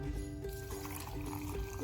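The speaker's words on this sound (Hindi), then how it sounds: "और ये पानी।" Lukewarm water pours into a jug holding strawberries, sugar, salt and lemon juice for a pink lemonade. It makes a steady close splashing and trickling for the whole stretch, with no talking.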